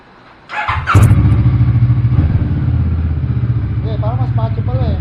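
A CF Moto 650 motorcycle with its silencer removed barks to life, then holds a loud, raspy, pulsing idle close by, as someone speaks briefly over the engine near the end.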